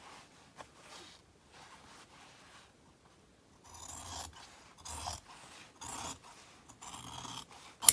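Scissors cut through two layers of fabric for a mask pouch flap, making soft, rasping snips. Quiet cuts come first, then a louder burst of strokes in the second half.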